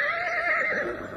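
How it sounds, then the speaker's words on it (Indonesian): A horse whinnies in a radio drama sound effect, one clear, loud, wavering neigh that rises and trails off over about a second, heard alone. "Kuda-kudaku rupanya sudah tidak sabar lagi. Mereka sudah ingin berjalan kembali."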